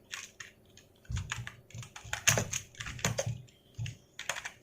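Quick bursts of typing on a computer keyboard as QB64 program code is entered, keys clattering close by in uneven clusters with short pauses between runs, no voices.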